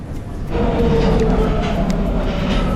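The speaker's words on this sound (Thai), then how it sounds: "กำลังรอขึ้นรถไฟขบวนนี้ค่ะ" A Nagoya Higashiyama Line subway train rumbles at a station platform as it arrives or idles, a steady low mechanical roar that swells after half a second and holds, with a faint voice underneath.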